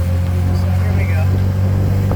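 A 1969 Triumph Spitfire drives along with its overdrive engaged, a steady low engine drone holding even and loud throughout with no shifts or revving, while a voice speaks briefly over it.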